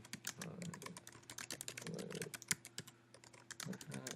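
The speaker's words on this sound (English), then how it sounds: "I always make it a point to speak what I'm typing out loud." Rapid, irregular clicking of keys on a computer keyboard, close and fairly quiet, with brief murmured speech in the background.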